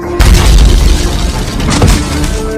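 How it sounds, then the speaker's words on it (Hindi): A bomb explosion destroys a cache of supplies: after a brief silence, a loud, deep blast erupts with heavy low rumble and crackling debris that roll on for over two seconds, then swell again near the end. "उसने सेफ शूट कर बम विस्फोट करने का निर्णय लिया"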